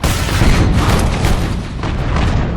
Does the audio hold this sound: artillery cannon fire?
yes